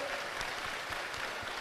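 An audience at a Bageshwar Dham gathering in Gondiya, Maharashtra claps in welcome, a brief, steady patter of many hands applauding together, fairly faint and continuous.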